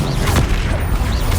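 A Confringo fire spell blast in the Hogwarts Legacy video game: loud booming impacts and crackling bursts, the clearest two arriving close together at the start and near the end, with no talk over them.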